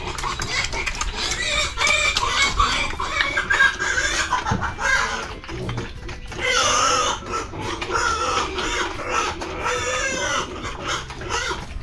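Busy clucking and squawking of many chickens close by, continuous and dense, with scattered sharper calls over a noisy farmyard background.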